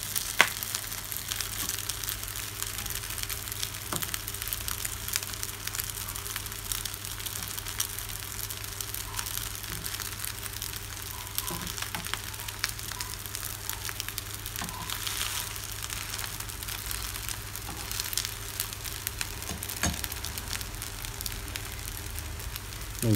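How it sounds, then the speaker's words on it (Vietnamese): Rice cakes made from leftover rice fry in a pan, giving a steady, soft sizzle and crackle with occasional small pops, fairly quiet and constant throughout. "Mình chiên mặt để cái này cho nó vàng lại một lần nữa"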